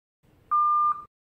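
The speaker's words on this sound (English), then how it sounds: "long press the middle button until you hear a beep" A single steady electronic beep from a wedding audio guest book telephone, a clean tone lasting about half a second, heard alone against a quiet background.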